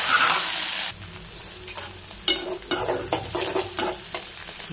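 Onion, curry leaves, fennel and dried chilli hit hot oil for tempering. A loud initial hiss gives way to steady frying sizzle, punctuated by several sharp stirring scrapes and clinks against the pan.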